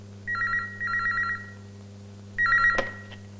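A telephone bell rings in three bursts of rapid trilling, two close together and a third after a pause, heard fairly clearly over a steady low hum indoors, with a brief clatter at the end as if the receiver is lifted.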